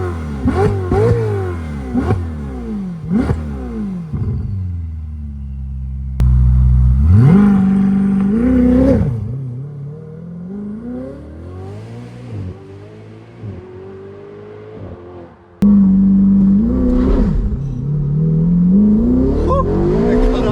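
A BMW M4 launching hard under launch control, its engine revving in loud rising sweeps that drop sharply at each quick gear change, with two big surges from near idle to full throttle, heard from inside the car.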